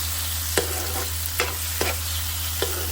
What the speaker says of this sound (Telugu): తర్వాత కట్ చేసుకున్న టమాటా వేసి వేయించండి